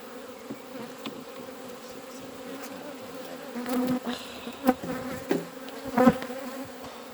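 Honey bees swarm around an opened hive during a demaree split, a steady, close buzzing drone with individual bees whining louder as they fly past the microphone, no one talking.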